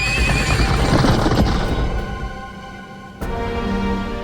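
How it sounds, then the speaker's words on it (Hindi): Horses whinny loudly and close, with hooves clip-clopping beneath, the neighing fading partway before a fresh burst of hoofbeats and movement near the end. "महाराज, घोड़े तैयार हैं।"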